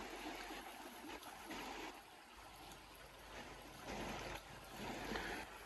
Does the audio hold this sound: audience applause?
no